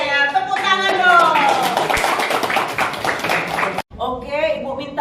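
Classroom applause for four student winners at a high school maths event, steady clapping from a group running throughout, with a voice speaking over it and a brief drop near the end.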